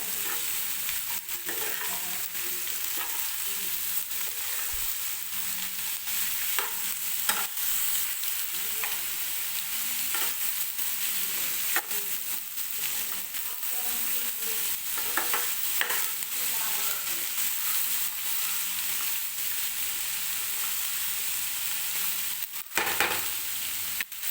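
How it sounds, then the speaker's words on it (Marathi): Capsicum and onion sautéing in oil in a pan, a steady loud sizzle throughout with occasional scrapes and clinks of stirring. "मी व्यवस्थित तेलामध्ये परतून घेतलेली आहे"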